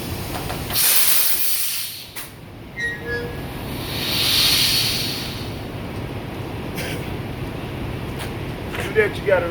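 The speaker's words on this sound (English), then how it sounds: "you gotta release your air and you pull this button here. Makes your pins go in." A truck trailer releasing air to slide its axle, with long hissing bursts of escaping air, close and fairly loud, rising and fading over several seconds amid outdoor background noise and a few clicks.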